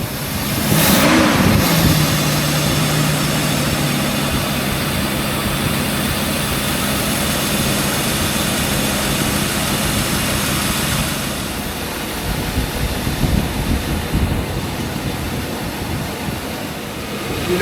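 A Mercedes 560SL engine with new injectors runs nearby at a smooth, quiet steady idle, with a brief clunk near the start and the drone easing off toward the end, no voices.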